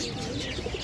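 Giribaz native-breed pigeons in a shop coo softly in brief murmurs over a dense, noisy background, close but faint.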